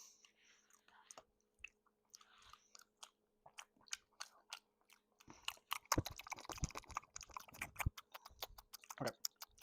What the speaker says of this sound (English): Just ASMR of us eating cake.